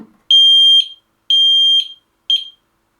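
A Sensereo MS-1 smoke detector's test alarm: a piercing high-pitched beep sounds three times, two long tones then a short one, loud and close with silence between.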